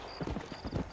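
Horse hooves clip-clopping on a trail in the video game Red Dead Redemption, a quick run of close, distinct hoof thuds in a steady rhythm.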